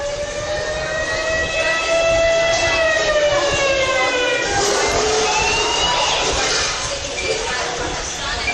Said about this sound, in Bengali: এয়ার রেড, সাইরেন বাজার পরই অ্যালার্ট